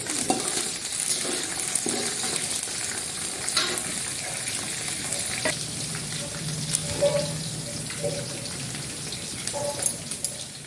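Curry leaves fry in a pan with a soft, steady sizzle while a spoon stirs and scrapes the pan, making scattered clinks and knocks close by.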